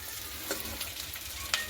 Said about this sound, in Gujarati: હવે આપણે બધું જ મિક્સ કરી લઈશું સારી રીતે